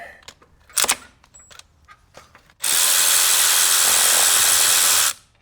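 A handheld power tool spins out an oil pan bolt on a BMW. A few faint clicks and handling sounds come first, then one loud, close burst of about two and a half seconds that stops abruptly.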